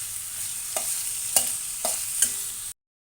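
Sliced onions frying in hot oil for an okra, potato and sweet corn fry curry, with a steady high sizzle and several sharp clinks of a spatula stirring against the pan, close and alone until an abrupt cutoff.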